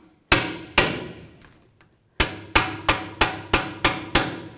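Sharp metallic hammer blows on a bearing driver, fitting a rear wheel bearing on a Chevy Silverado: two strikes, a pause, then six evenly spaced hits in a steady rhythm, each ringing briefly before fading.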